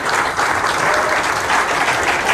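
Audience applause at a live Hindi motivational talk, dense and steady throughout, loud and close with the whole crowd clapping together and no speech over it.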